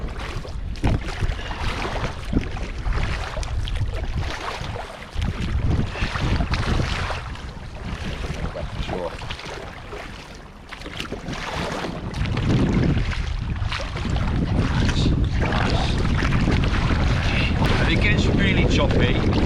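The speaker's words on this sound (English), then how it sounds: "you've almost got to still paddle against the waves a little bit, and that's what I'm doing now" Paddling a small boat against choppy waves in strong wind: a steady close roar of wind buffeting the microphone, with water sloshing and splashing throughout, growing louder in the second half.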